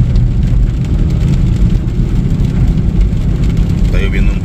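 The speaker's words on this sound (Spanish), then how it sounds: "Está lloviendo un poquito fuerte." Heavy rain falls steadily over farm fields, a loud dense rumbling hiss that stays constant from start to end.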